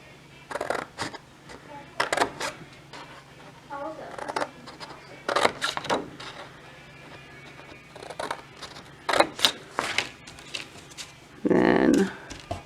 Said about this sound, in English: Okay, so cut up just to that first score line.